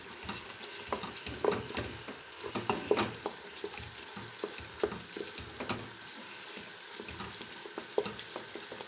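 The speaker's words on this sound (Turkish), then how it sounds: "Salçayı kavurduktan sonra tereyağını koyacağım." Tomato paste fries in a pan with a soft, steady sizzle, broken by faint clicks and scrapes of stirring. Quiet and close, with no talk.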